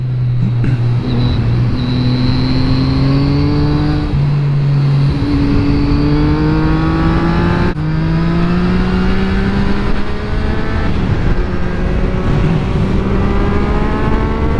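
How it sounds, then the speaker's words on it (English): A motorcycle accelerates hard downhill on a road, its engine note climbing steadily and dropping briefly at each gear change. The sound is loud, close and continuous with no talk. "This bike gets really fucking fast when you really get on it."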